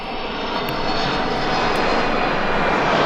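A loud, steady roar from an airplane's engines at Sharm El-Sheikh, a broad continuous rush that swells slightly as it goes on, with no talking over it.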